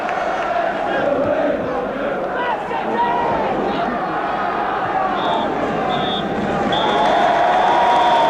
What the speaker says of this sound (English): the crowd on their feet to applaud a 3-1 victory